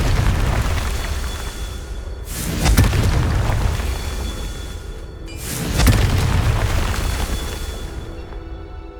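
Two heavy booming blasts from the Confringo fire spell in the video game Hogwarts Legacy, spaced about three seconds apart over a loud, busy game soundscape of rumbling effects and no clear speech.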